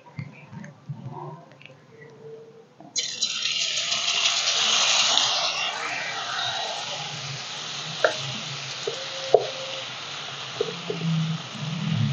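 Batter squeezed from a water bottle through a hole-punched cap into hot oil, starting a loud, bright sizzle that swells, then settles into steady bubbling frying with a few small clicks.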